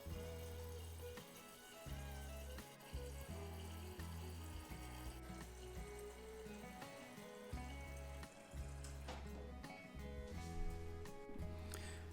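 Filtered water runs from a tap into a one-gallon container for kombucha, a steady close pour that is interrupted briefly a few times, with faint clinks and shifts near the end.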